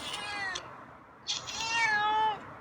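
A cat meows twice nearby, a short call followed by a longer, drawn-out meow, with no talking.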